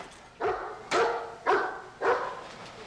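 A police dog searching an old glass plant barks four times, evenly spaced about half a second apart, each bark loud and close with a short echo in a quiet interior.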